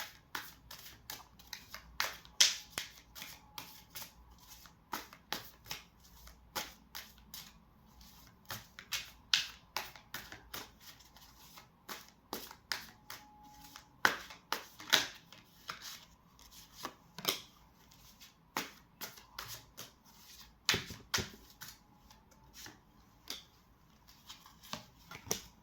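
Tarot cards shuffled by hand for a reading, a long run of crisp riffling snaps and soft slaps in an uneven rhythm, close and fairly quiet with no talking.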